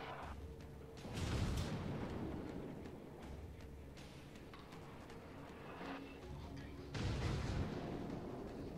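Yamato battleship guns firing in a naval video game: heavy booming salvos at about 1 and 7 seconds, each with a rumbling tail, over constant background engine drone and scattered game effects.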